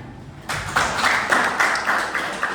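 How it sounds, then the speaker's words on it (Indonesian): Applause at the close of an academic debate session, starting abruptly after a short quiet stretch, with a dense patter of claps and a few stronger bursts sustained at moderate volume. "Oke, tepuk tangan."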